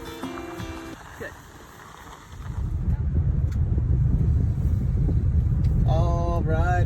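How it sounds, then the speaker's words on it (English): Riding inside a car in Riding Mountain National Park, a low rumbling road and engine drone with wind noise builds after a quieter start and holds steady, with brief voices talking at the start and near the end. "We're back in the car."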